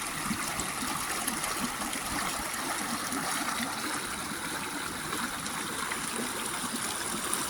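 Continuous rushing water pours steadily, a dense even wash of splashing with no voices.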